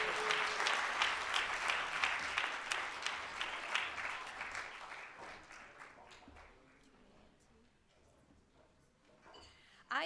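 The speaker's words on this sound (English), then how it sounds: "One more round of applause for our orientation leaders" An audience at a student life awards ceremony claps for orientation leaders, a lively burst of applause that gradually thins out and dies away to scattered claps and quiet room tone.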